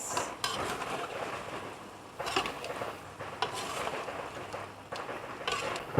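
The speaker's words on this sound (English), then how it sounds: "that's the sound of firecrackers." Firecrackers go off outside, heard from indoors in a home kitchen during stir-frying. They come as several distant, crackling bursts spaced a second or two apart over a constant sizzling background.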